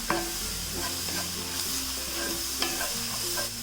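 Turmeric, garam masala and Kashmiri chilli powder are stirred into onions sautéing in a pan. A constant close sizzle plays under a few scraping stirs over a few seconds, with no talking.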